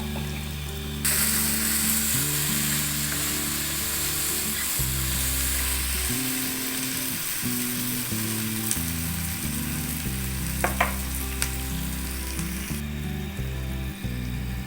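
Ground dried coriander fries with minced meat and onions in a pan, giving a steady sizzle with occasional stirring clatter under a melodic background tune.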